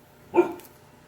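A single sharp, close dog bark rings out once against near silence, the dog turned territorial by a man outside.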